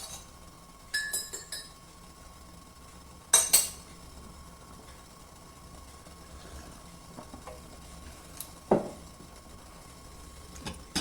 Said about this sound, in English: Just put the lid back on so it'll come back up to the boil.